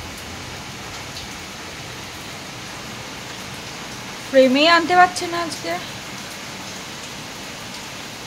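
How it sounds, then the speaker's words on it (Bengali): Heavy rain pours outside in a sudden downpour, a steady, dense hiss that runs throughout, while a voice talks briefly partway through. "হঠাৎ করেই ওয়েদারটা চেঞ্জ হয়ে এত জোরে বৃষ্টি নেমে গেল"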